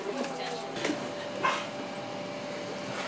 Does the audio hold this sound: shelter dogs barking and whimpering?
yes